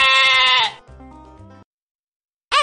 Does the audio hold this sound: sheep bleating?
yes